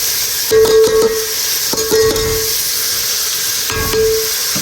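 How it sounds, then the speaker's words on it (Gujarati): Onions frying in a pan for chana biryani, a steady hiss and sizzle broken by three short bursts of sharper spitting, close and fairly loud with no voices. "ઓનિયનને પકાવી દઈએ થોડીક."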